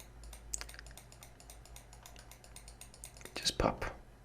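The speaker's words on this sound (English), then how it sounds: "Now press B on your keyboard and just do some pop." A computer keyboard clicks in a rapid run of light, close keystrokes, followed by a few heavier, louder presses near the end, with a faint low hum underneath.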